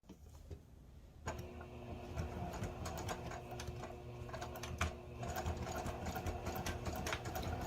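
A sewing machine starts up and runs steadily, stitching a zipper seam, its rapid mechanical stitching chatter continuing close by without pause.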